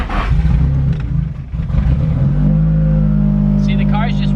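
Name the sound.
Nissan 240sx on E85 starting in gear and moving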